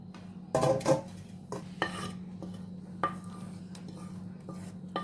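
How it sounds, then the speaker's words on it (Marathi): Cooked masala for egg biryani is scraped and spooned into a large pot. Close metallic clinks and knocks of a spoon against cookware come in a few irregular bursts over a low background hum. "तो मोठ्या भांड्यामध्ये काढून घेऊया"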